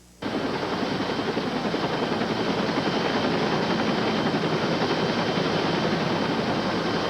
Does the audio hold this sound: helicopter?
yes